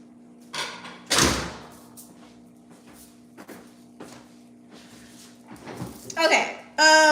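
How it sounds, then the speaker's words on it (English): A door is shut indoors: scattered thumps and handling knocks, then a sharp loud thud as it closes, followed by further rustling and a latch-like rattle, with a steady low hum throughout. "I think I should close the door"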